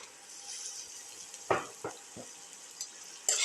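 Ginger and garlic sauté in a pan with a soft, continuous sizzle, broken by a few sharp scraping knocks of a utensil against the pan and a brighter burst of frying near the end.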